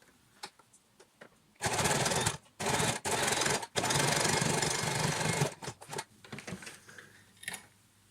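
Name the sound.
sewing machine stitching fabric for a mask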